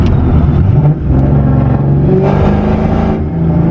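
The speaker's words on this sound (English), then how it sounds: "It's only when I give it more than half throttle, just a little bit more than half throttle, and it just misses like crazy." Boosted Ford Mustang GT engine revving loudly under more than half throttle, its drone rising and dipping unevenly as it misses, running continuously close by with no talk.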